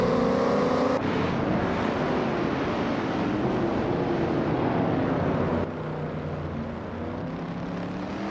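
A 1966 Ford Fairlane racing in a video game, its engine producing a loud, sustained droning roar with shifting pitch tones that drops abruptly in level near the end.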